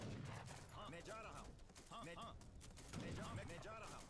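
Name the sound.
bombard cannon firing in the video game Age of Empires 3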